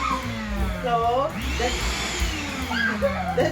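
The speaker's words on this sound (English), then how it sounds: "that's the vacuum part" A Stealth 3 gallon wet/dry vacuum runs close by with a steady motor whine and shifting airflow tones, while people talk over it.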